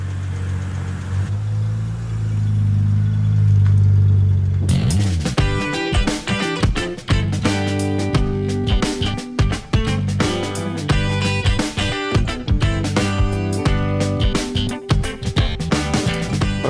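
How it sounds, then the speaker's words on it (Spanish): A re-engined Jaguar E-Type with a reworked final exhaust section fires up after a few seconds of low background rumble, then runs loud and close with a throbbing idle and repeated blips of revving. "tuvimos que hacer una reforma en el último tramo de los escapes y quedó lindo, vistoso y suena hermoso"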